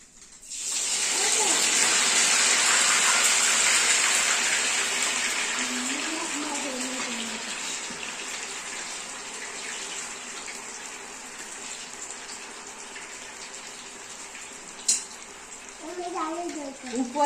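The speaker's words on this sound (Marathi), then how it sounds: "आपलं तेल पण गरम होतच आहे थोडस टाकून बघूया मी तुम्हाला थोडीशी तळून दाखवते" Dal batti dough dropped into hot oil for frying, giving a loud steady sizzle that gradually softens into a lower bubbling hiss, with someone speaking briefly over it near the end.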